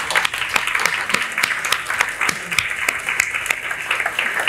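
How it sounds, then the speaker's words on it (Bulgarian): Audience applause for a guest at the close of a Bulgarian talk show, a dense, steady wash of many hands clapping throughout, fairly close and loud. "аплодисменти за нашия гост днес"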